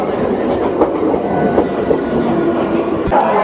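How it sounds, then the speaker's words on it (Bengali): A passenger train pulls into a station with a close, steady rumble and rhythmic clickety-clack of wheels over rail joints, punctuated by a few sharp knocks. "চলুন, ট্রেন চলে এসছে।"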